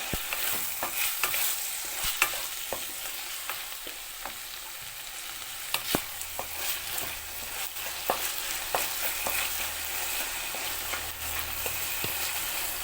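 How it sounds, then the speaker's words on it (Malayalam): Chopped tomatoes fry in a pan for tomato rice as a spoon stirs them, a constant bright sizzle with scattered soft clicks and scrapes of the utensil, close up and without speech. "തക്കാളി ചേർത്തതിന് ശേഷം നന്നായിട്ട് ഇളക്കി കൊടുക്കാം"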